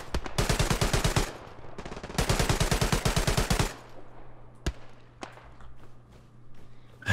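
Rapid bursts of automatic gunfire in the World War II shooter Hell Let Loose, two loud sustained volleys in quick succession followed by scattered single shots and quieter distant fire over a low hum.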